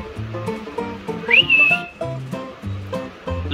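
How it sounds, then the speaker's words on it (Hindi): A person whistles a short rising then level note at animals, heard over a busy background of other tonal sounds and chatter. "मैंने सीटी बजाकर इनको थोड़ा सा डिस्टर्ब कर दिया"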